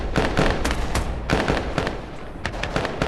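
Rapid gunfire in the co-op VR shooter Tactical Assault VR: loud, dense bursts of shots crackling one after another, with only short gaps between volleys.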